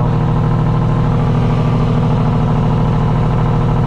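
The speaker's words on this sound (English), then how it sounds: "But as you can hear, the Jake's going" A loaded hazmat truck's engine brake on a custom Peterbilt rattles steadily and loudly, a continuous low, pulsing drone close by throughout, in Pittsburgh.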